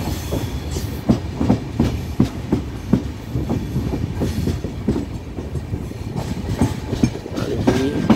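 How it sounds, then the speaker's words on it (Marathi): The Angnewadi holiday special train rolls into Sawantwadi with a steady, close rumble and a regular clickety-clack of wheels over rail joints. No one speaks. "ही अंगणेवाडी हॉलिडे स्पेशल ट्रेन सावंतवाडीत आलेली आहे"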